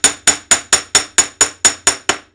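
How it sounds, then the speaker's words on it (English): Small hammer striking a tiny piece of jewelry wire, ten sharp metallic taps in an even, quick rhythm, close and clear with no talking. "I'm just going to leave it on the wire and hammer it."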